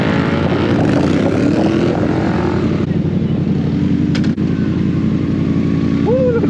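A Yamaha MT-07 motorcycle runs at high speed with a steady, loud engine drone and rushing wind noise throughout, while voices talk briefly over it.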